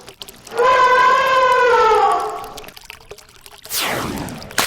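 A large cartoon splash of an elephant falling from a hillside into a river in an animated story: a loud whooshing, bubbling surge of water, then a short quieter gap before another rushing splash.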